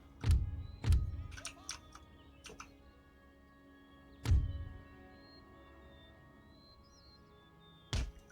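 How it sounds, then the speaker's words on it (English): Cannons fire uphill into the dirt in the strategy game Empire: Total War, making a handful of dull, thudding booms spaced irregularly against a quiet backdrop. "we're firing uphill, so we'll just be firing into the dirt"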